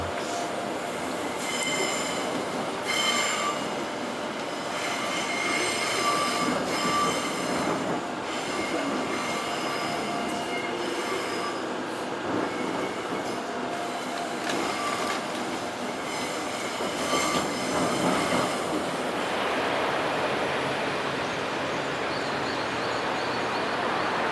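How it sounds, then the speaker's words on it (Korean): A KTX train slows through the Seosomun level crossing, rumbling steadily past with wheels squealing and rattling on the rails, the noise slowly easing and thinning out toward the end. "열차가 속력을 줄이더니 서서문 건널목을 통과합니다."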